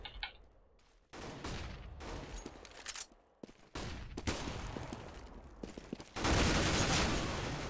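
Rapid bursts of rifle and pistol gunfire crackle in a Counter-Strike: Global Offensive competitive match, with overlapping volleys, short pauses and a dense sustained barrage at the end.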